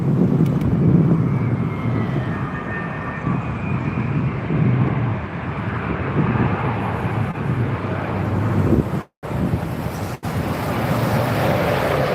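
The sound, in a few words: Virgin Atlantic Airbus A330neo landing at Heathrow runway 27R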